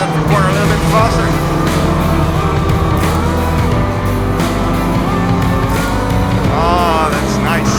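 A Citroën Saxo VTS 16V small sports car driven hard and sliding through corners, its loud engine revving and changing pitch continuously up close, with someone talking over it.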